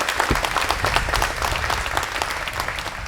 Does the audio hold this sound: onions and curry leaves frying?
no